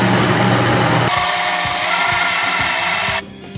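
A blender grinding a thick black bean and brown rice mix, a loud motor roar that shifts pitch as it labors with rhythmic thumps, then cuts off abruptly.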